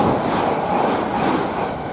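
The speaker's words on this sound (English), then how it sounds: "We've got a 387 heading from Newbury to London Paddington." A Class 387 electric train heading from Newbury to London Paddington passes at West Ealing on the Great Western Main Line, giving a loud, steady roar of wheels and running noise that continues without a break.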